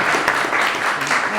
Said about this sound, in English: They get an applause even before they begin